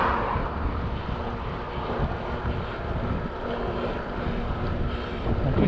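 Steady, rough roar of a headwind buffeting the microphone along a seaside road, continuous and fairly loud, with no speech.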